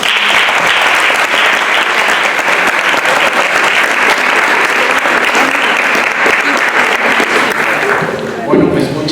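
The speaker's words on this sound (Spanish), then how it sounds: "quisiera que recibamos con un aplauso" Sustained dense applause from a lecture audience at a university science faculty greeting a visiting speaker, loud and steady throughout before tapering off near the end.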